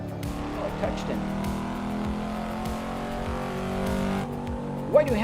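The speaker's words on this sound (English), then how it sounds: "I'm driving a Cadillac DT5e" A Cadillac DT5e in a driving video game runs with a steady engine drone and a few brief revs, while someone talks over it throughout.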